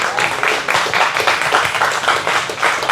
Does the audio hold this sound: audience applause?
yes